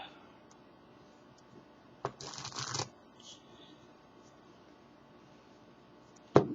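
A deck of playing cards is shuffled in a quick riffle burst lasting under a second, then a short second riffle near the end, with quiet pauses between.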